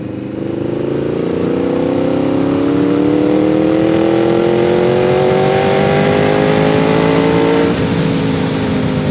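Yamaha Vmax 1700 Gen 2 motorcycle, a 200 hp cruiser, roaring hard under acceleration on a test ride, engine pitch climbing steadily through a long pull before a brief shift, loud and close with wind noise.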